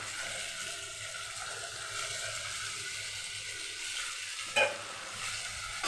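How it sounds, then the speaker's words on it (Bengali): Pointed gourd (potol) pieces frying in a pan with a yogurt masala for niramish doi potol, giving a continuous close sizzle and hiss under gentle stirring, with one sharp utensil clink near the end and no voices. "পটলটা দিয়ে আমি আরও একটু ভালো করে কষিয়ে নেব।"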